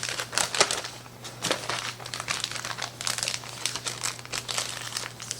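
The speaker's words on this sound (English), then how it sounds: "I'm just going to scoot this in a freezer Ziploc" Pizza dough is pushed into a freezer Ziploc bag, giving close, crisp plastic crinkling and rustling in quick irregular bursts with a faint steady hum underneath.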